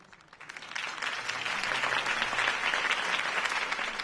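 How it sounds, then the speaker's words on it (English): A crowd applauds after a campaign speech for Harvey Dent in Batman: The Telltale Series, with clapping that swells within the first second into a dense, sustained ovation that continues steadily. "could have heard that applause"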